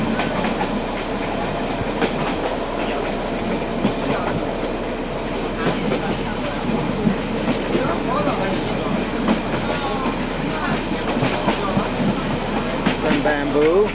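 Narrow gauge passenger train running on the Hekou to Kunming line in China, a steady close rumble of wheels on track with clickety-clack and car rattles throughout, nearing a station.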